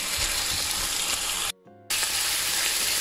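Beef browning in a hot pan for semur Betawi, a loud, dense, continuous sizzle heard up close, cut off by a brief near-silent gap midway before the frying resumes.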